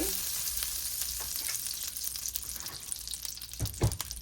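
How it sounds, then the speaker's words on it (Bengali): Chopped garlic sizzles and crackles steadily in hot oil in a kadai for fried rice, with a few stirring scrapes near the end. "এই যে কিছু রসুন কুচি"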